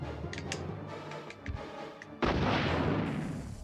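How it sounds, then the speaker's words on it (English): A rocket launcher fired at the Tyrant in Resident Evil Director's Cut: a few sharp ticking clicks and thuds, then a sudden loud blast that roars on and slowly fades. "let's try a rocket launcher and see what happens"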